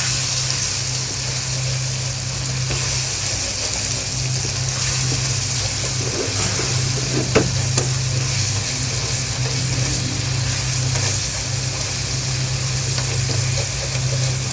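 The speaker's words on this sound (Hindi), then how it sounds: "मसाले हमारे अच्छी तरह से भूनने जा रहे हैं" Spices being stirred and roasted in a pan for a potato and egg curry, an even, loud sizzle running throughout with a steady low hum and a few faint scrapes, no one speaking.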